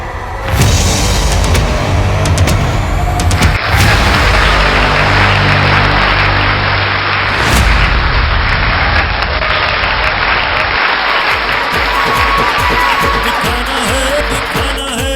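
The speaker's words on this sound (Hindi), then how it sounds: "जोरदार तालियों से please welcome on the stage." Audience applause for an achiever coming on stage at a business celebration, a loud continuous roar of clapping and crowd noise under booming music, sustained throughout with thumping beats and no speech.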